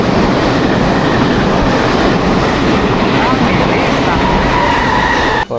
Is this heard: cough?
no